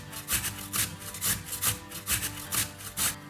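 Butternut squash is grated on a box grater in quick, rhythmic rasping strokes, about a dozen close, bright scrapes in a steady back-and-forth pattern.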